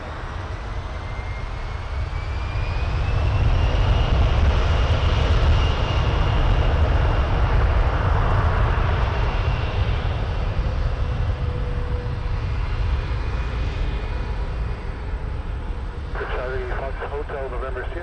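An Air Canada jet airliner rolls for takeoff on runway 23 at Toronto Pearson, its engines building into a loud, sustained roar that holds steady before easing slightly, with brief radio voices breaking in near the end.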